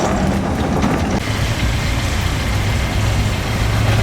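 A vehicle drives along with a loud, steady engine drone and road rumble that continues throughout, heard from inside.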